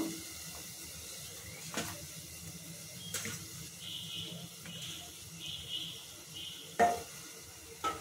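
Fried fritters stirred into a pan with sugar, giving a faint steady sizzle broken by soft scrapes and a few light knocks of the spoon.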